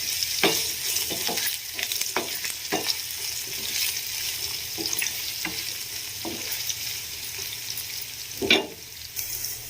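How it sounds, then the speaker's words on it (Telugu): Sliced onion and green chilies fry in oil with dried red chilies for a potato curry, holding a steady sizzle under repeated clicks and scrapes of a stirring spoon, with one louder knock near the end. "ఎండుమిర్చి అనేది ఫ్రై అయింది కదా, ఇందులోకి నేను కట్ చేసుకున్న ఆనియన్ పచ్చిమిర్చిని యాడ్ చేసుకున్నా"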